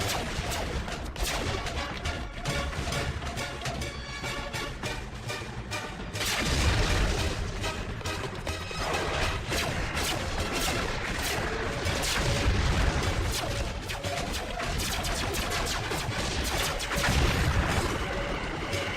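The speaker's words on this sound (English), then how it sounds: "We're taking heavy fire! We need backup!" Animated sci-fi battle fills the scene with dense, loud gunfire and booming artillery blasts, with rapid bursts and crashing explosions layered continuously over a rumbling background.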